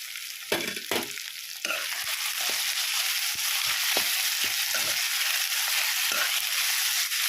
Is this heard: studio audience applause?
no